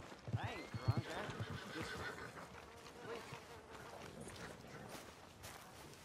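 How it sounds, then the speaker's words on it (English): In the video game Red Dead Redemption 2, a horse whinnies loudly near the start, followed by hoof clops and movement, with a voice murmuring underneath. "Are you gonna mount that new horse of yours or not?"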